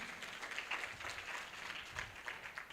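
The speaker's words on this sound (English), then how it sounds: "So let's clap for him." Conference audience at an international biomedical and biotechnology meeting clapping for a regional representative, a faint, distant, steady patter of many hands throughout.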